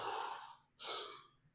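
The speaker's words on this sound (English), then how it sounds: "they're like deep fast breaths" Two deep, fast breaths close up, a long rushing inhale-exhale followed by a second sharp one, with no talking.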